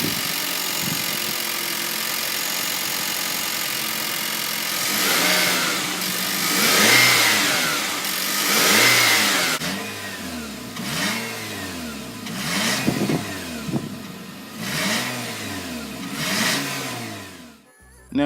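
A 2018 Nissan Rogue's 2.0-liter inline-four engine runs steadily, then is revved several times in repeated swelling bursts, each rising and falling, heard up close with no talking.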